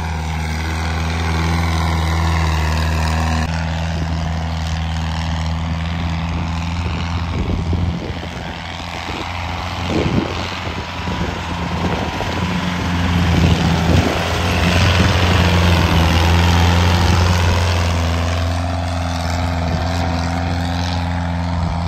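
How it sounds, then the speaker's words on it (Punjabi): Standard tractor engine revving hard during a stunt, a loud continuous droning roar that swells and surges with bursts of heavy rumbling and rattling across the run. "ਕਹਿੰਦੇ ਮੁੰਡੇ ਨੇ ਗੇੜੇ 3 ਦਿੱਤੇ ਟਰੈਕਟਰ ਉੱਤੋਂ ਦੀ"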